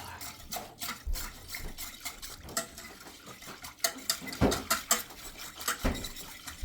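A whisk clatters and scrapes around a pot of Swiss and mozzarella cheese sauce for mushroom pasta, with irregular metallic clinks and taps rising and falling over a soft background.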